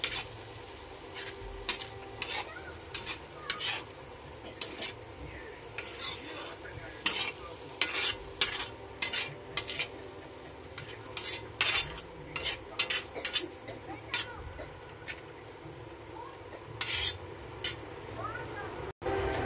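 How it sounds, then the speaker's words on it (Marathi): Dal is stirred and fried on a tawa in a pan, giving a steady low sizzle broken by frequent sharp scrapes and clicks of a spoon against metal, close and fairly loud throughout. "डाळीला नंतर मिक्स करून घ्यायचं।"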